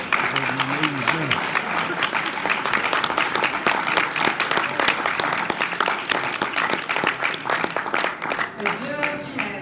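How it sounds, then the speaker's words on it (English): A crowd gives a standing ovation, with sustained, loud, dense clapping lasting several seconds, and cheering and voices blended into the applause. "Now that deserves one more standing ovation and a round of"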